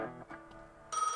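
A telephone rings in the video game Gas Station Simulator, heard late at night. The ring arrives as a short, bright electronic tone at the end, after a brief stretch of quieter ambience.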